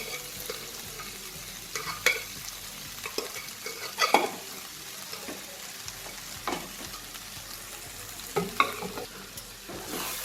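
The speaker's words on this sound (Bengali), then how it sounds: "এবার এটাতে আমি যে গ্রিন মুগ ডাল যেটা সেদ্ধ করে রেখেছি সেটা দিয়ে দেবো।" Boiled green moong dal stirred into frying masala in a pan, a soft wet sizzle under repeated scraping and stirring strokes that come in irregular bursts, close and moderately quiet.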